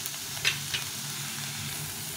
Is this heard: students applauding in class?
no